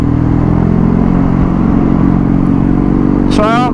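A Kawasaki retro motorcycle hums with a steady low engine drone and wind rush on a test ride, loud and continuous, with a rider's voice briefly heard at the end.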